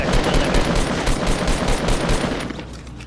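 Dense, continuous burst of rapid gunfire shots, loud and close, sustained without pause across the whole stretch and easing slightly at the end, heard during a shooting game with no speech over it.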